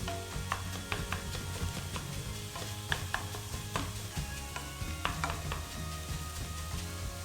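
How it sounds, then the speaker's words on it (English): Ground beef frying in a pan for homemade sloppy joes while a hamburger chomper breaks it up, giving a steady close sizzle with repeated scraping and chopping knocks against the pan. "It's a hamburger chomper, and it helps it really break up your hamburger all into like equal-sized pieces"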